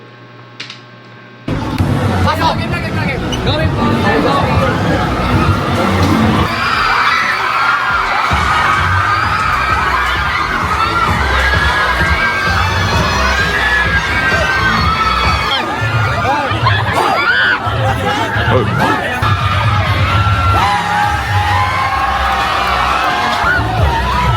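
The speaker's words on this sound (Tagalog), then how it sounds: "Grabe yung tili na yun." A large crowd of fans screams at a performance, a sudden loud, sustained wall of high-pitched shrieking and cheering that starts after a brief quiet moment and holds steady throughout.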